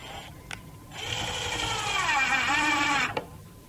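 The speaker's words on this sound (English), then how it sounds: "I'm going to use my drill and just screw these in" A cordless power drill whirs for about two seconds as it drives a screw into a wooden window frame, its pitch dropping as the screw bites, framed by short clicks before and after.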